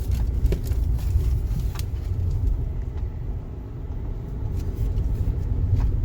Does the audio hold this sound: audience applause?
no